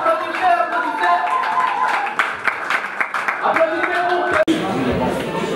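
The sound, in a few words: audience applauding after a gospel performance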